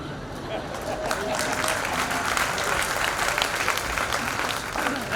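An audience at a Hindi spiritual discourse breaks into sustained clapping, a loud, even wash of many hands that continues for about five seconds with some murmuring mixed in.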